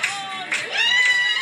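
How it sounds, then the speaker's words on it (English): A recorded crowd of old ladies claps and hollers in loud bursts of high cheering and whooping, with overlapping shouts and clapping throughout. "there's just like old ladies clapping and hollering"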